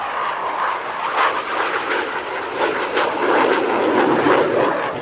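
Alenia Aermacchi M-346 Master jet trainer flying at an Italian Air Force centenary airshow, its engine roar a steady broad rush that swells slightly as it passes, moderately loud and continuous.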